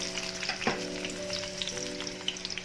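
Whole mushrooms frying in a pan after eggs, sizzling steadily with a bright crackle and a few stirring scrapes, close and alone.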